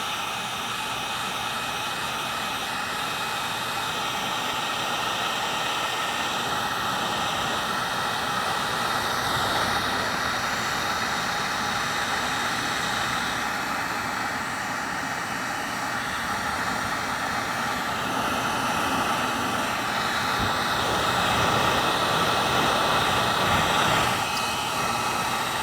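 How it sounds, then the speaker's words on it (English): A heat gun blowing continuously while shrinking heat shrink tubing on wires during a BMW angel eye electrical repair, a steady loud hiss-like whoosh that rises slightly toward the end, close and alone. "And the heat shrink now."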